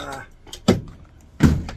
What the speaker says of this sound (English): whoa, get my door ripped off here